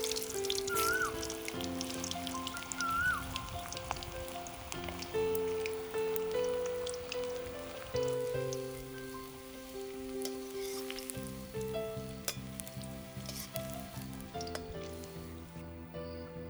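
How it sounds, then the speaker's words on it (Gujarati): Vegetable manchurian balls deep-fry in hot oil in a kadai, giving a steady bubbling sizzle with crackling pops throughout, close and moderately loud, partly mixed with soft background music. "તેલ ગરમ થાય એટલે આપણે એમાં થોડા થોડા બોલ નાખી અને તળી લઈશું"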